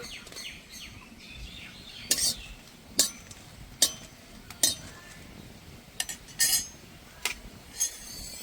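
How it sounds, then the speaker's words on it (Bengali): Whole dried red chillies and coriander seeds dry-roasting in a hot kadai give a series of sharp metallic clinks and scrapes as a spatula stirs them, sparse and spaced out over a quiet background. "গোটা ধনে, ধনে আর শুকনো লঙ্কাটা দিয়ে কিছুক্ষণ ভেজে নেব।"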